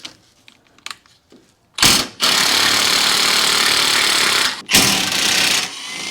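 An impact tool on a first-generation Toyota Tacoma spins off a 17 mm nut with a socket in a loud, close burst, then a second shorter burst, after a few soft clinks of handling.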